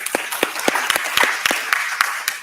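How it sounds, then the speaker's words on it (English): An audience at a policy dialogue event gives a short round of applause for students, with distinct claps repeating steadily and moderately loud for a few seconds. "A round of applause for our students as well,"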